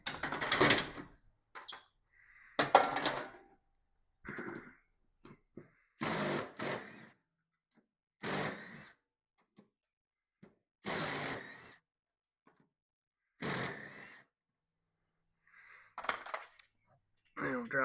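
A worn mower deck spindle from a Husqvarna MZ61, turned by hand, giving repeated short bursts of rough grinding, scraping rattle, spaced about every second or two with quiet gaps between, close and fairly loud.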